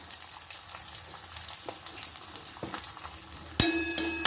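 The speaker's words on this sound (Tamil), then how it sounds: "கடுகு பொரிஞ்செடுத்து இப்போ உளுத்தம்பருப்பு, கடலைப்பருப்பு, அப்புறம் பெருங்காயம்." Urad dal, chana dal and asafoetida sizzle in hot oil with mustard seeds, a steady crackling fry with light stirring, then a sharper clatter near the end.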